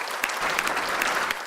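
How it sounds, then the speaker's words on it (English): An audience at a distinguished alumni awards ceremony claps for the standing winners in a short, full burst of applause, with individual claps poking through the steady roar. "Let's clap for them first"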